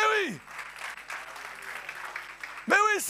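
Church congregation applauding God during a French-language worship service, a few seconds of steady mid-level clapping framed by a sung or spoken voice at the start and end.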